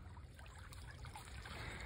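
River water streams steadily past a sloping bank in a South Carolina woodland, a soft continuous trickle and rush close by with no voices.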